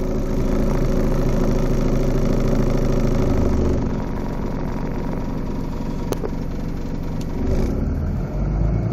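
A Mercedes diesel engine runs at a low idle on a cold 20-degree day, a steady loud rumble with a slight change in tone partway through and faint clicks.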